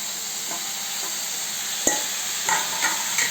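Bottle gourd pieces stirred and fried in a pan with oil and salt, a constant sizzle with a few sharp scraping clicks of the spoon against the pan, close and alone.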